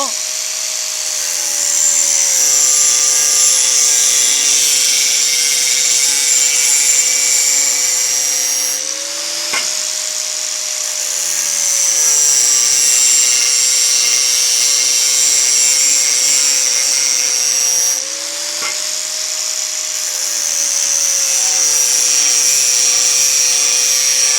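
A loud, harsh angle grinder whines steadily while cutting square steel pipe, briefly easing off twice before biting back in, with no talking.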